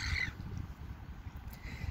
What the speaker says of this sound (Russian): Эти чайки тут, которые тут посидеть спокойно не дают.